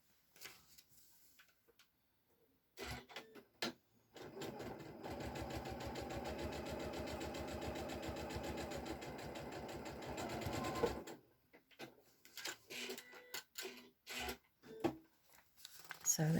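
A sewing machine stitches paper-pieced fabric in one sustained run of rapid, even mechanical ticking, close by, with quiet handling noises before and after.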